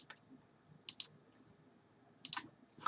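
Computer mouse clicks during a document formatting task, a few faint, sharp clicks in small clusters against near silence.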